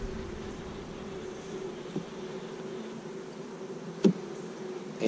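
Honey bees drone steadily in a close, continuous buzz at an open hive during an inspection of frames holding honey, pollen and eggs, with a couple of brief knocks near the end.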